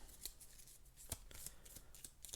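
A deck of cards is shuffled for the Aeon's End board game: a quick run of soft, papery riffling clicks, close and quiet, with no talk.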